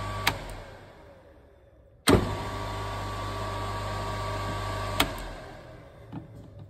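A small electric motor in a relay control circuit on a school training panel hums steadily after a sharp switching click, with another click partway through and the hum fading near the end; no one speaks.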